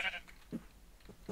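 Sheep bleating in the video game Minecraft, several short bleats spaced apart over a quiet background, fairly faint.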